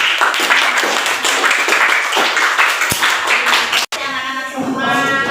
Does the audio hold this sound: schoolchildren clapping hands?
yes